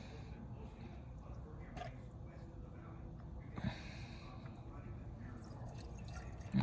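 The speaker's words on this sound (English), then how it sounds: "let me fill the bowl and we will see. So, I'm going to pump some fuel in." Fuel being pumped into the carburetor float bowl of a 1958 Studebaker Golden Hawk, heard as faint dripping and trickling under a steady low background rumble, with a brief louder knock near the end.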